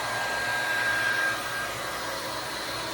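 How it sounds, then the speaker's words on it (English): Steady blowing whir of a heat gun warming a Kydex-style OWB holster, a continuous close airflow hiss with a faint high tonal whine, dipping slightly in level midway. "throw this on the heat gun and fold the sides inward to create that contour"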